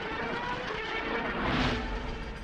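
Star Wars podracer engine sound effect built from a Porsche, a loud, roaring engine rush that swells briefly as it passes close by, alone with no talk.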